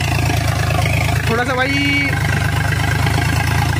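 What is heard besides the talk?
Eicher 551 tractor engine pulling 7-foot rotavator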